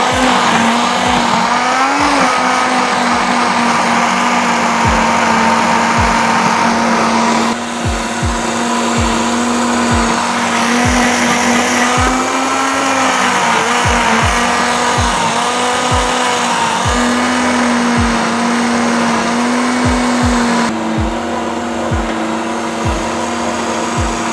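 A blender purees green curry paste with a loud, steady motor whine, its pitch wavering slightly as the load shifts, plus regular low thumps as ingredients churn, running continuously close up.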